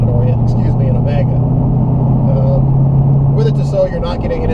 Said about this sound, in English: Sorry about the wind noise, this car is a little loud.